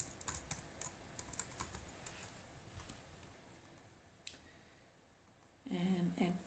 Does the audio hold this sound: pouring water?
no